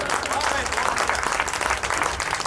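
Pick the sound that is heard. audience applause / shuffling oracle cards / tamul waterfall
audience applause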